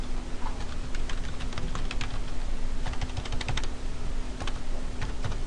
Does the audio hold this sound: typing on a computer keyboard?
yes